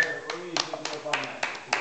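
A small group claps in a pub in several short, uneven bursts of applause while people talk over and between the claps.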